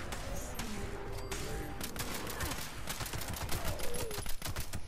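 Rapid bursts from an anti-armor submachine gun in Fallout 76, with dense, near, continuous automatic fire running the whole stretch and small bursts punching through on top.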